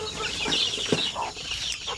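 Chickens cluck near at hand among young roosters (stags) kept in pens, a steady busy flock chatter with a louder squawk partway through and no talk over it.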